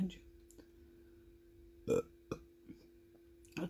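A woman burps after tasting a floral-flavoured vape pod. Several short, soft eructations come close to the mic and stand apart in a quiet room, with a steady electrical hum underneath.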